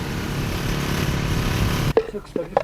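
A motorcycle engine drones steadily at close range in the remote Altai highlands of Mongolia, a buzzing rumble that cuts off abruptly near the end, followed by brief clattering sounds.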